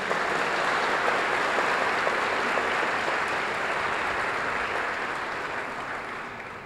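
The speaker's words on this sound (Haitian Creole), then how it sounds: "saluer la présence du docteur Cadet parmi nous avec un vibrant applaudissement" An audience gives a warm, sustained round of applause welcoming Dr. Cadet, dense steady clapping from a large crowd in a hall that holds level for several seconds and then slowly fades.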